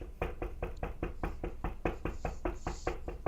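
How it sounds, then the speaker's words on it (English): Loud, steady knocking on the door of Squidward's house in a SpongeBob SquarePants cartoon, about a dozen evenly spaced raps in quick succession with no talk over them. "they just keep knocking on Squidward's house"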